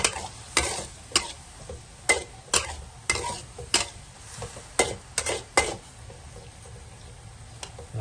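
Pork and winged beans being stir-fried in a pan: a steady sizzle under repeated sharp spatula scrapes and knocks at an uneven rhythm, close and fairly loud, with no talking.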